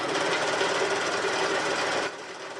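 A serger runs steadily along the full length of a fabric seam with a dense, continuous mechanical whir, then eases off slightly near the end with no voices.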